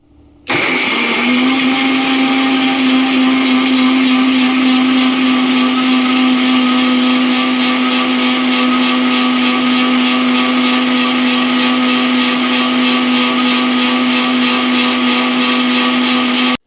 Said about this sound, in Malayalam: ഇനി ചെറിയ കഷ്ണം പുളി കൂടി ഇതിൽ ചേർത്ത് മിക്സിയിലിട്ട് കുറച്ച് വെള്ളം ഒഴിച്ച് നല്ലപോലെ ഒന്ന് അരച്ചെടുക്കുക